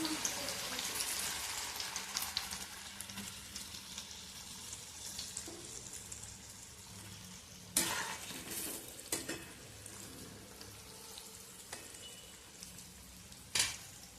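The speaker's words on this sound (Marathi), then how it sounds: "आता राहिलेली पण आहे ती वडी तळून घेऊया" Alu vadi frying in oil, a soft steady sizzle under occasional spoon stirs and sharp clinks against the pan, close but fairly quiet.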